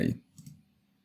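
A computer mouse clicks on on-screen buttons while an IP camera is being set up: one sharp, close click, then a fainter second click shortly after.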